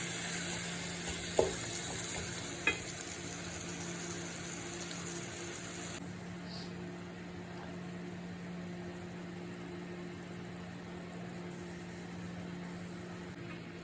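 Tomatoes and beef masala cook in a pan with a steady, soft sizzle and simmer throughout, close and fairly quiet, with a couple of brief clinks near the start and no talking.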